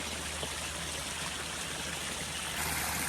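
Water splashing steadily from a fountain in a formal botanical garden in Alabama, a continuous broadband rush that holds even and moderately close throughout, with no voices.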